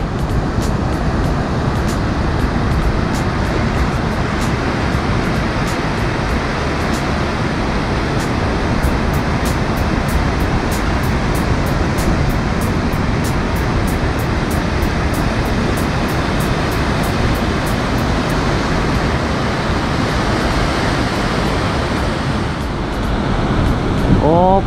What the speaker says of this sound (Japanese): チュービーな波がブレイクしてるみたいですね